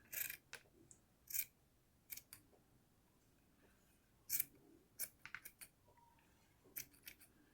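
Sharp scissor snips cut hair just above a child's eyes, a handful of crisp separate clicks spaced irregularly, close but quiet in a hushed room.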